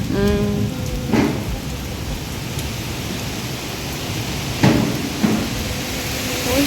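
Steady rain pours down in a dense, even hiss, broken by a few louder thumps and knocks.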